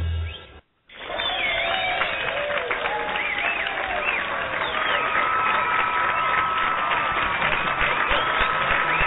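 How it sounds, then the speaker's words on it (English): A crowd at a punk show cheers and applauds loudly and steadily after a brief gap at the start, with whistles and shouts rising over the dense clapping. "and the crowd goes wild"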